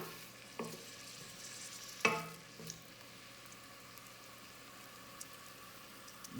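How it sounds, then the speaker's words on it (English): Tomato sauce simmers gently in a pan, giving a faint, continuous low sizzle with a few soft clinks and taps from the cookware scattered over the quiet background. "I can start hearing the little bit of the simmer."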